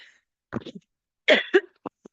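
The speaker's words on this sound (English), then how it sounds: "I'm just going to mute for 1 second so I can cough." A few short, quiet coughs in two clusters, followed by a couple of brief throat-clearing bursts, close to the microphone.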